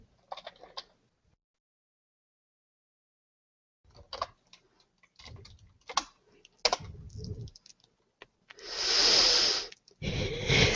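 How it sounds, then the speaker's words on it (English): Typing on a computer keyboard to enter a chat message, with scattered bursts of key clicks separated by quiet gaps and a louder sustained rush near the end. "Just checking the chat box. And I'll type something in there."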